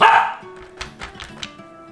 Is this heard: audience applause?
no